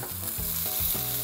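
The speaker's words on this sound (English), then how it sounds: "Ooh, I love that sizzle." Food sizzles steadily in a hot pan as tomatoes, cilantro, garlic, jalapeno peppers and onions cook for steak ranchero, with a close, continuous crackle and faint stirring pulses and no talking.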